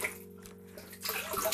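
Water running into a household storage tank, a splashing gush that swells louder in the second half over a steady low hum.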